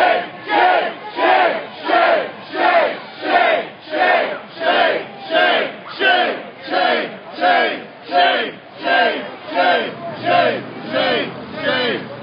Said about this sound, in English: Once again, there comes the crowd chanting shame.